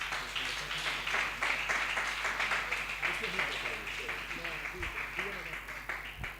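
A church congregation applauds together in a steady, dense wash of clapping that carries through to the end, with some voices mixed in under it.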